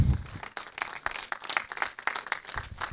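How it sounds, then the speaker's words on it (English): A crowd applauds with steady, dense clapping throughout, moderately loud and sustained without any break. "with a round of applause"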